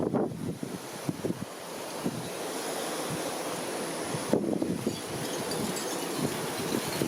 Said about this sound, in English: Ah, the wind's blowing it